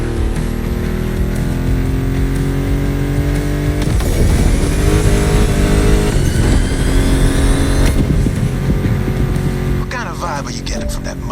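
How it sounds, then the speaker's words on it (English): A Ford Mustang GT muscle car engine in The Crew Motorfest roars and climbs in pitch through repeated loud revs and gear changes, with music and other game sounds mixed in. "Meshes well with the sound of the engines, you feel me?"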